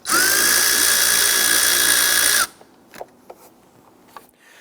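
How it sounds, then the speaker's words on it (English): A 5/16 socket on a power driver loosens the intake hose clamp on a 2011-2021 Jeep Grand Cherokee 3.6L V6, making a close, loud whirring burst of about two and a half seconds, followed by a few light clicks and taps. "We're going to use our 5/16 socket. Loosen and remove that."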